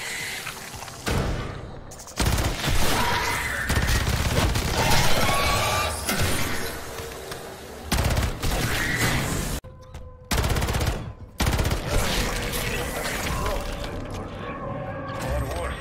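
Gunfire in Call of Duty Modern Warfare Zombies, with rapid weapon shots and cracking impacts in bursts separated by brief silent gaps, mixed with game effects and heard under a talking voice.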